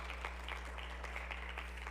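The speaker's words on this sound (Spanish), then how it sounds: "Den un aplauso al Señor, aleluya." A church congregation claps for the Lord during a Spanish-language service, giving a soft, steady wash of applause over a low electrical hum.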